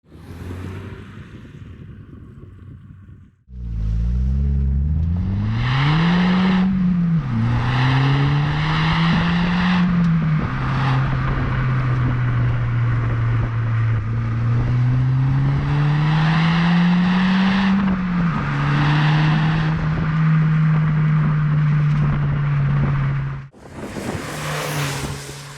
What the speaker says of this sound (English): Richard, out on the road in some very, very grim weather in this Polo GTI.